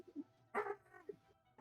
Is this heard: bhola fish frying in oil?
no